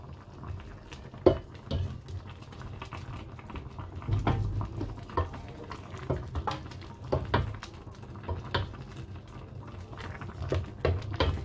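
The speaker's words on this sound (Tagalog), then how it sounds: "Haluin natin siya." Chicken, pineapple and aubergine stirred in a pan after the lid comes off, a low bubbling simmer with repeated soft scrapes and knocks of the utensil against the pan.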